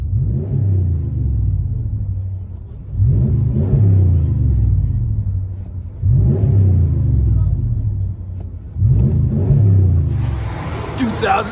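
Heard from inside the cab, a 2016 Ram 1500 with a 5.7L HEMI and aftermarket exhaust gives four deep, rumbling rev bursts, each swelling and then falling back, loud and close.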